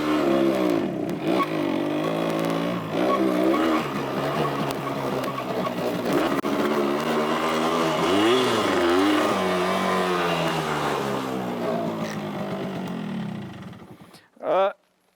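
A 1970s motorcycle is ridden away, its engine roaring steadily with rising and falling revs close by for about fourteen seconds before cutting off, followed by a brief loud burst.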